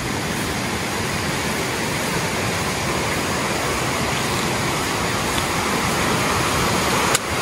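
A river current rushes below Curug Kembang Mayang waterfall in a forest, a loud, even torrent of water that never lets up, with one brief click near the end.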